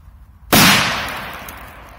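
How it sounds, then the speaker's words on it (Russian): A triangle firecracker goes off in a single sharp, loud bang after a quiet moment, its blast decaying into a hissing tail over about a second and a half. "давайте еще взрывем треугольник"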